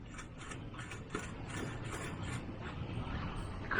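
A new Bosch oil filter being spun by hand onto an Alfa Romeo 156 engine, a quiet run of light rhythmic ticking and ratchet-like clicks, close and faint.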